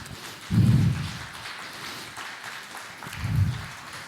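Two bursts of congregation applause at a Spanish-language church service, a dense clatter of clapping hands swelling and fading, the first louder, the second shorter, with quieter room noise between.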